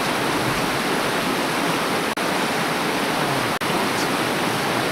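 Quartz Creek in Oregon rushes steadily, a dense, even wash of flowing stream water close to the microphone, with two brief clicks breaking the constant roar.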